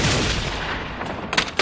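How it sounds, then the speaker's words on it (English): A sniper gunshot in an animated action series booms loudly with a long decaying rumble, followed by a couple of fainter sharp cracks. "Sniper attack."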